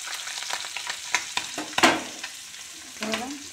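Small fish frying in hot oil make a close, steady crackling sizzle, with sharp pops and a louder burst of spatter partway through.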